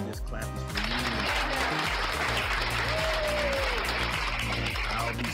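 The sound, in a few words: clapping applause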